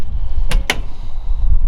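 The door of a 1929 Ford Deluxe Tudor Phaeton hi-boy hot rod shuts with two quick, sharp knocks close together, over a low rumble of outdoor wind.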